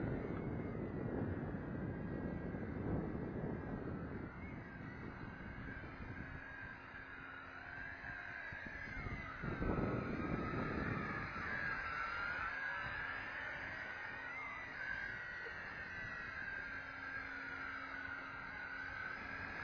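A Tarantula X6 hexacopter drone whines steadily with a raised rotor tone that shifts pitch as it flies, while gusts of wind buffet the microphone on a windy day outdoors.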